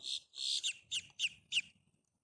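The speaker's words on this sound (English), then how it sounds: "the bird is loud." A bird gives a short series of five or six bright chirps in an even rhythm, clear and fairly close, fading into quiet.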